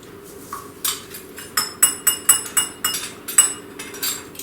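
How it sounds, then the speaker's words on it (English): A spoon stirring in a mixing bowl of milk for cotton candy donut batter, sounding as a steady series of about a dozen close, bright clinks against the bowl, with no talking. "And just take this spoon and just mix it a little bit."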